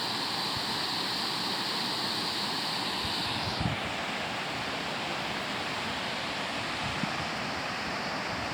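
Heavy, continuous rush of floodwater surging after a strong typhoon and flood, a dense roaring wash that fills the clip without letup, with no talking.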